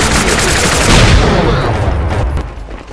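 A grenade blast and gunfire in Garry's Mod, a loud booming burst that peaks then trails off into scattered shots, close and harsh over about three seconds.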